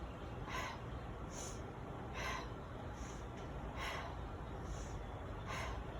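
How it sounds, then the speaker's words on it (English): Exaggerated yoga breathing comes in soft, rhythmic inhales and exhales, about seven airy breaths evenly spaced over a quiet room background. "Exaggerating the breath here just a little bit, just so that you see what I'm doing"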